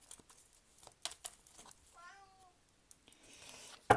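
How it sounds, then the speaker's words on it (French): A house cat meows once in a short, clear, fairly faint call in an otherwise quiet indoor room, with a few soft clicks and rustles around it. "Désolée pour mon chat."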